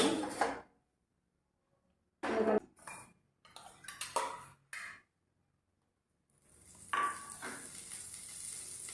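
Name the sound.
frying grated coconut in a wok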